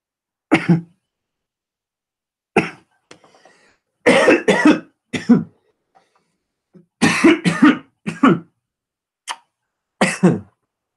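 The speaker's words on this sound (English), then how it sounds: "You guys all like watching me cough myself again." A person coughs repeatedly after taking a hit, in harsh, loud bursts spread across the stretch with short silent gaps between fits, plus a faint hoarse throat sound in the middle.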